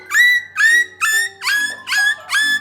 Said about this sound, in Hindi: ऐसी आवाज निकाल रही है डॉग के, ऐसा लग रहा है असली में कोई पपी रो रहा है